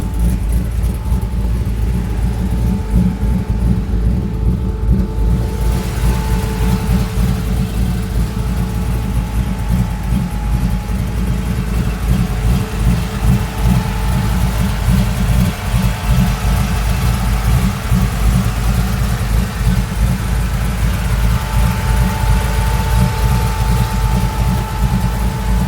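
Truck engine idling in a vehicle with a 4L80 transmission, a continuous low rumble with a faint steady whine, close by and unchanging throughout.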